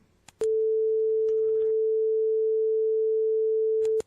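A pure, steady 440 Hz sine tone from an online tone generator, switched on abruptly after a click and held at constant loudness for about three and a half seconds before clicking off.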